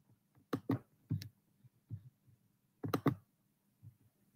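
A computer mouse is clicked on a work computer in short sharp bursts, mostly in quick pairs with gaps between them, close and fairly quiet with no talking.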